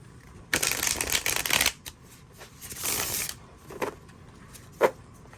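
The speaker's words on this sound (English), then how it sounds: "So let me do a quick shuffle." Several quick bursts of tarot cards being shuffled close by, crisp riffling flurries separated by short pauses, with a final brief snap.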